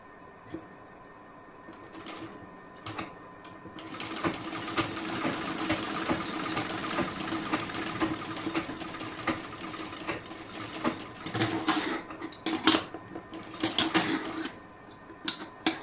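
A sewing machine stitches a plain blouse in bursts, its motor whirring and needle clattering rapidly with brief pauses and handling clicks between runs, close and steady.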